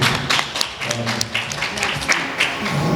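Audience applause at a press conference for a music artist, a short burst of close, uneven hand claps with some thumps, fairly loud.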